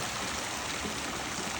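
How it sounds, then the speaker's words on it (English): Water rushes steadily down a backyard pool slide once its ball valve is opened, a dense, even splashing hiss that holds unbroken throughout. "Wow, water to the slide."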